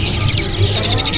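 Young Asian pied starlings call at a bird market stall, a rapid run of harsh, repeated chattering notes heard up close and loud.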